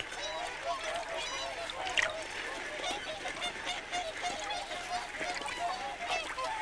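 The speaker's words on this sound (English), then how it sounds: "Yes, these are wild swans, normally shy and very wary of people." Wild Bewick's and whooper swans at an internationally important wetland, many honking calls overlapping in a busy, steady chorus with other waterfowl, moderately near, while someone narrates over the birds.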